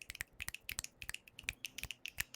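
A crowd of people snap their fingers together, a dense, irregular spatter of sharp close snaps running continuously for a couple of seconds.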